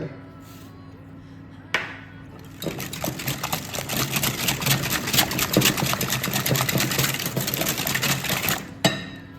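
Eggs with salt are beaten in a bowl for egg wraps, a brisk close whisking clatter that starts after a quiet pause, runs steadily for several seconds, then stops with a sharp knock.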